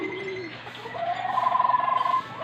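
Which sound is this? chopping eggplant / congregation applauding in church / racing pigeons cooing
racing pigeons cooing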